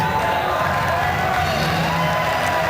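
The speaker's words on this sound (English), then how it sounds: "the crowd now rising to their feet, the FWA chant going strong" Wrestling crowd at an FWA British Uprising show in the United Kingdom, 2002, cheering and chanting as fans rise to their feet; a steady, loud roar of many voices with rhythmic chant fills the whole stretch.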